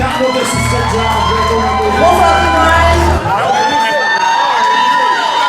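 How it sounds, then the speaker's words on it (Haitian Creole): A live music event crowd cheers, whoops and shouts for the singer Sarah Jane. The loud, dense roar of many voices fills the clip, with a sustained low tone under the first few seconds. "un gros applaudissement pour Sarah Jane"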